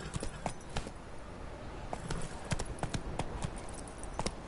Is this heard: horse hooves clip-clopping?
yes